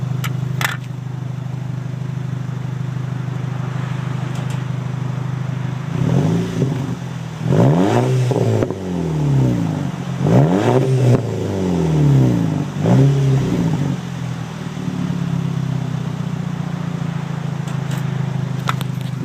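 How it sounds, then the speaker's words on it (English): A turbocharged car engine with a loud muffler-delete exhaust idles with a deep rumble, then revs sharply several times in quick bursts with gurgles and back pops before settling back to idle. "Let's give it a couple revs, just so that way you get an idea for how it sounds."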